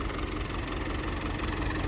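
A New Holland 850 tractor with about 40-50 running hours idles with a steady, low rumble throughout, a constant throbbing pulse and no voices, close and continuous.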